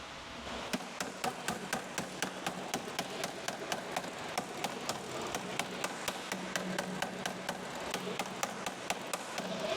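A hammer strikes the clamped edges of a Porsche sheet-metal panel in a steady, even series of about thirty sharp metallic blows. The hits are close and regular, with a low workshop hum beneath them.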